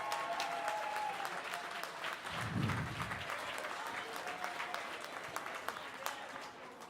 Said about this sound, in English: would you give Stephen a big round of applause